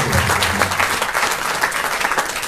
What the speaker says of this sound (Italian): Un applauso per l'autore, per favore